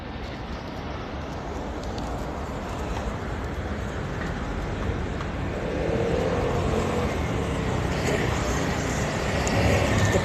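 Street traffic in midtown New York City near 39th Street, a continuous dense roar of passing cars and engines with a broad wash of city noise, swelling slightly louder toward the end.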